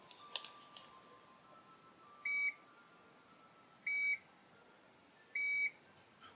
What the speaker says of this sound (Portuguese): O bip dele não é muito alto